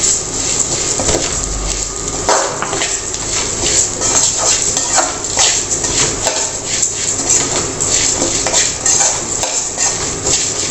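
Red aval, flattened rice, roasting in a pan while it is stirred, with a steady dry scraping and rustling broken by frequent small clinks of the spoon, close and continuous with no talking.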